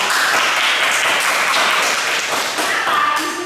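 Students in a school physical education lesson on forward rolls applaud a classmate named Wahyu, giving quick, dense clapping that fills the whole moment at close range.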